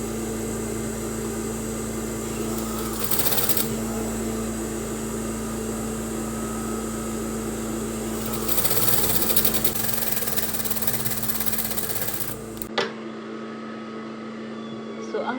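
Sewing machine stitching fabric for a handmade headband, a steady close mechanical hum and whir running for about twelve seconds, with two brief louder bursts, then stopping abruptly, followed by quiet room tone.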